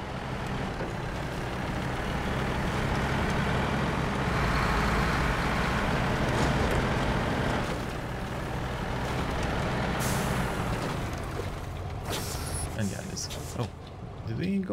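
Truck engine rumble from a small truck hauling a trailer over rocky terrain in the video game SnowRunner, a steady loud drone with air-brake-like hisses, running under speech throughout.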